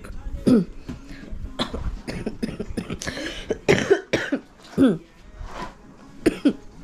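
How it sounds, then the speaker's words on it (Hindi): Several sharp coughs burst out at irregular intervals, mixed in with ongoing talking and background clatter, close to the listener. "देख सकते हो मेरी खांसी बहुत ज़्यादा हो रही है मुझे फ्रेंड्स"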